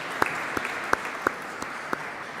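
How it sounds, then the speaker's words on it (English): Scattered audience applause at an awards ceremony: about six separate sharp handclaps spaced unevenly over a couple of seconds, fairly faint above a steady background hiss, with no voices. "And we can make a clap."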